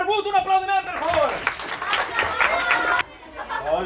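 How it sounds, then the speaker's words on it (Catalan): Audience applause for the bearded king character at a live children's folk-tale book show, a dense burst of clapping and crowd noise that swells in after a moment of talk and cuts off sharply, with a voice speaking before and after. "Tenim així el rei barbut, un aplaudiment, per favor!"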